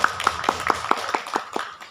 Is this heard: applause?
yes